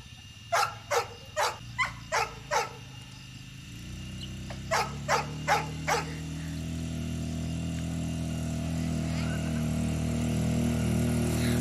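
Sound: Labrador dog barking

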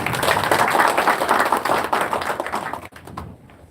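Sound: audience clapping to welcome a speaker

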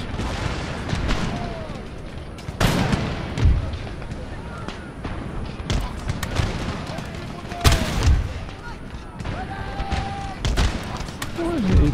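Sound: mortar artillery fire in video game Empire: Total War

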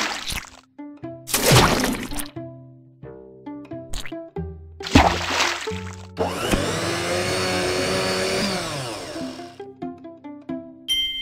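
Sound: blender making a carrot smoothie in a video game

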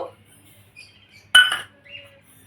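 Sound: spooning poppy seeds into a mixer jar

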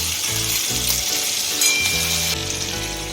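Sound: garlic ginger paste frying in hot oil for veg hakka noodles

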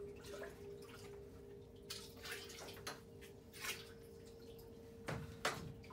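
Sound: filling a hydroponics container with water

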